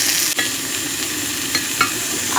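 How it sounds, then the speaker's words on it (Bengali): Sweet potato slices frying in a pan, an even close sizzle with a few brief scraping clicks, no talking. "এখানে রান্না করছি মিষ্টি আলু গোল গোল করে ভাজা করছি"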